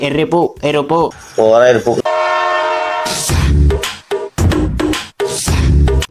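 A train sound effect in a film scene: a sustained horn blast stands out between bursts of loud rushing rail noise, with a voice speaking before it and music-like clatter around.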